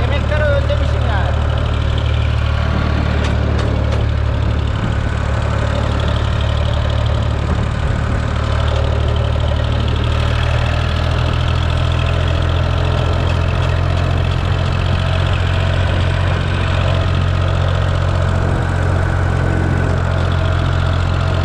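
A Ford tractor engine idling close by, a loud, steady low throb that holds evenly throughout.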